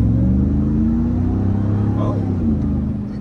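A loud supercharged TRX truck engine rumbles steadily, with a high supercharger whine riding over the low drone and voices talking underneath.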